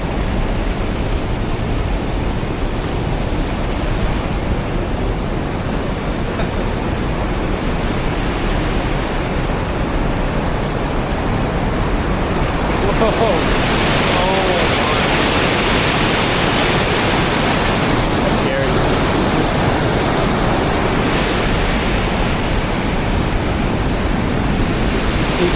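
Loud, continuous roar of floodwater rushing through the river at Fenghuang, a dense and unbroken broadband wash, very close and with no talk over it.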